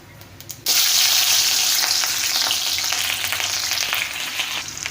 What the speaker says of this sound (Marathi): जिरं छान फुललं की यात घालून घ्यायची आहे हिरवी मिरची